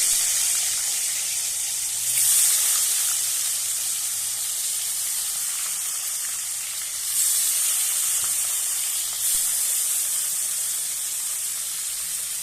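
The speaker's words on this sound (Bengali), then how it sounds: "তো তেল গরম হয়ে গেছে, এবার আমি মাছ দিয়ে দেবো" Fish frying in hot oil in a wok, a steady broad hiss and crackle that swells briefly a few times as the fish settles, with no talking.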